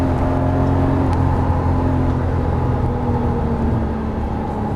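A Lamborghini Murciélago is driven hard around the Las Vegas Motor Speedway track, a loud continuous engine roar with wind rumble filling the cabin, steady throughout with no talk.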